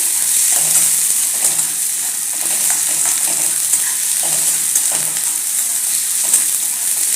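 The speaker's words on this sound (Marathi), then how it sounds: "त्याच्यात टोमॅटो घालून घ्यायचा आहे हे व्यवस्थित परतून घ्यायचं आहे" Tomato frying with dried shrimp in a pan, a steady close sizzle broken by repeated soft scrapes and clinks of stirring, with no one talking.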